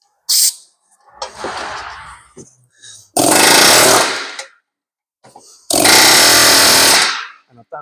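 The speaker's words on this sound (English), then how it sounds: "you see how easy that comes out just with an air chisel" An air chisel hammers out a part on a Range Rover Velar in a workshop, loud close rattling bursts of about a second each, separated by quieter pauses.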